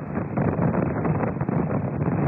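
Strong trade wind roaring across a racing sailboat under full sail in the Vendée Globe, a steady loud rushing gust that buffets the microphone without pause.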